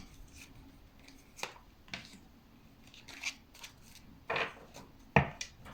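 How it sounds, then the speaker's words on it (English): Tarot cards being shuffled by hand in a quiet room, giving soft papery riffles and a few sharper slaps and taps in irregular bursts, close to the microphone with no talking. "So, we're still in shuffling."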